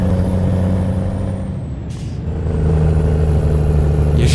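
A Volvo truck in Euro Truck Simulator drives a rough dirt road, its engine a steady, loud low drone with a brief air-brake hiss midway and another at the end.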